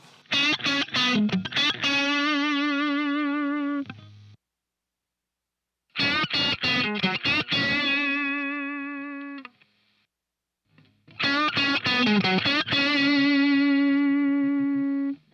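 Heavily distorted electric guitar through an amp modeler plays three chugging, chord-ending phrases, each ringing out before a brief silence.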